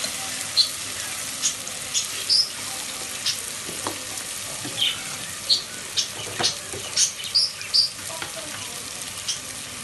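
Meat being sautéed in a pot for Karachi-style biryani gives a steady close sizzle, broken by repeated scraping stirs and little pops, with no voices.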